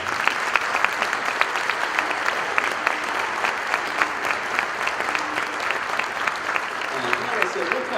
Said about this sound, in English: we need a huge round of applause for that